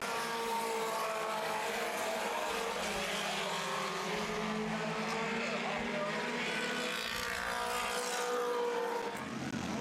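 Race cars roar around the Baer Field Speedway oval, engines droning and shifting in pitch as they pass, while an announcer calls the action over the top.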